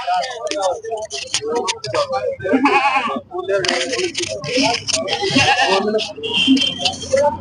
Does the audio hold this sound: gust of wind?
no